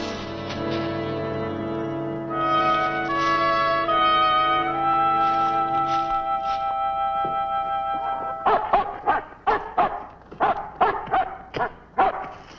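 A dog barks repeatedly, sharp and loud, in a rapid series of yips and barks that follow a stretch of sustained musical tones.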